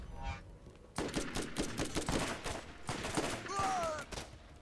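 Gunfire in the shooter Borderlands, rapid overlapping shots from several weapons in quick, ragged bursts, fairly loud and continuous after a brief quieter opening, with a short electronic whine near the end.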